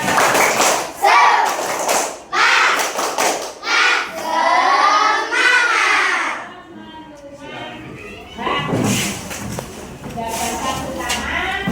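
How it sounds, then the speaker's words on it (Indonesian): A classroom of students performs a 'tepuk semangat' clapping chant, with groups of rhythmic claps alternating with voices chanting and calling out in a patterned, energetic sequence, loud and close. "Kita lanjutkan dengan tepuk semangat."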